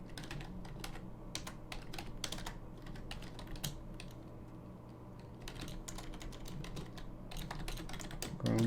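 Computer keyboard typing during a Unity 2D platformer coding lesson, with steady irregular clicks of keys pressed in quick bursts over a constant low background hum, no talking.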